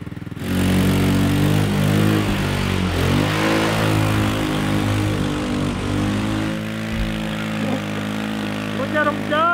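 The engine of a homemade off-road go-kart runs loudly close by, its pitch shifting as it revs and sags outdoors, with people talking over it.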